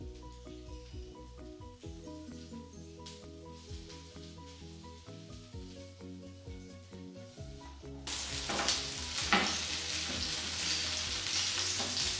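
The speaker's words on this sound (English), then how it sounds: "Fry till you get golden color from each side of paneer. Fry in medium flame." Paneer cubes fry in oil over a medium flame, a steady crackling sizzle running throughout that swells louder and brighter in the last few seconds, with no voices.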